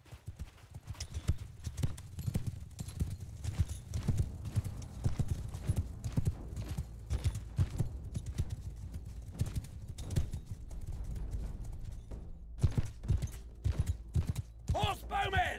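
Horses gallop across a battlefield in Mount & Blade II: Bannerlord, a dense, continuous drumming of many hooves that runs steadily throughout, with the odd whinny and clatter near the end.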